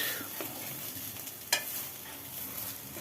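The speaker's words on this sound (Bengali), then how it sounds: "এইবার এটা নেড়ে ছেড়ে ভাজা হবে" Sliced banana stem stirred and fried in a pan, giving a steady soft sizzle with scraping stirs and one sharp clatter midway, close and continuous with no talking.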